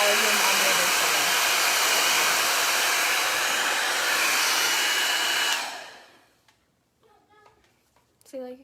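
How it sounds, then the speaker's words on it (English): A 60 mm two-in-one volumizing brush dryer blows steadily on short curly hair, a loud continuous airy roar that cuts off about two-thirds through, leaving quiet room tone and brief voices. "if you blow dry your hair on one side versus using the volume on the other side"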